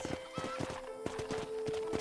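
A horse in Red Dead Redemption clip-clops along in a steady, close hoof rhythm while neighing and whinnying over a faint background tone.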